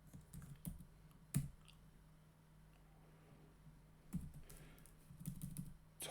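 Light typing on a computer keyboard during HTML and CSS coding, with scattered quiet clicks and a few sharper keystrokes spaced across several seconds against a faint background hum.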